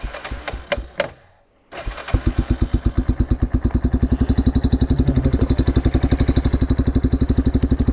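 A 1998 Yamaha Big Bear 350 4x4 ATV, already warmed up, cranks with a few sharp pulses, goes quiet for a moment, then catches and settles into a loud, even, rapid thumping idle.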